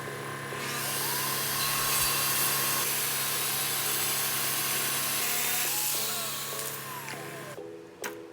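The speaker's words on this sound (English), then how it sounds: "Using a track saw, I then rip it to its width." A track saw rips a wood board to width for an epoxy wall art piece, running as one loud, steady whine with the blade cutting through. Near the end it spins down and stops.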